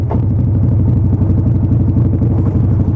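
A new motorcycle's engine idles fast and loud up close, a steady rapid chugging rumble that holds even throughout.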